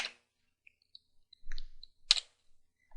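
A few faint, sparse keyboard clicks while a Linux command is typed, isolated taps separated by near silence.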